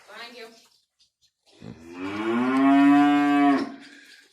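A two-year-old cow gives a long, loud, close moo rising to full strength, preceded by a shorter lowing call and a brief pause.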